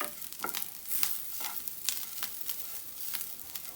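Coconut filling for Malabar unnakaya roasting in a pan, a soft continuous sizzle broken by repeated scraping stirs of a spoon against the pan, fairly quiet and close with no voices.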